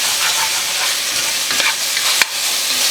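Onions frying in a jambalaya pot at an outdoor cook, a steady loud sizzle with a few scraping stirs of a spoon against the bottom, close and continuous with no talk.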